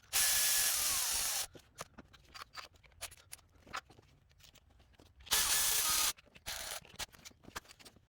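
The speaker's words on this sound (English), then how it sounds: "I'm gonna torque them down to 18 foot-pounds" A torque wrench tightens bolts to 18 foot-pounds on a Chrysler Town and Country engine during a head gasket job, with quick ratcheting clicks between two loud, steady hissing bursts, close up and without talk.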